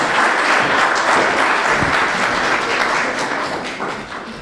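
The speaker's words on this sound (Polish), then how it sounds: "Prosimy o brawa oczywiście." An audience at an Independence Day evening commemoration applauds a guest speaker. A loud, dense, sustained ovation from many hands holds steady, then eases slightly toward the end.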